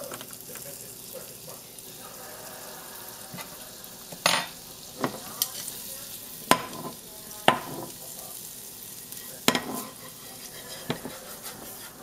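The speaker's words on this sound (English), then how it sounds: "Just gonna add some butter to the pan" Butter melting in a pan for omurice, a soft steady sizzle running throughout, broken by a few sharp clinks and knocks of a utensil against the pan.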